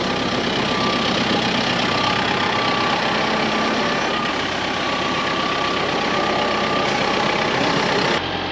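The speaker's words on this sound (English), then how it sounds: "see how well this tractor handles a roll of hay, which it should do just fine," Tractor engine running steadily while handling a roll of hay in a field, a loud continuous diesel rumble held close throughout with a brief drop near the end.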